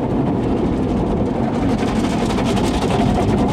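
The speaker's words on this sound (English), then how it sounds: "we hear the car wash" Car wash machinery runs with a loud, steady low rumble and churning mechanical noise, unbroken and close by, with no talking over it.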